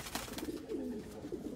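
A racing pigeon, a hen bound for Barcelona racing, gives low repeated throaty coos close by, a soft rolling call with brief pauses between phrases.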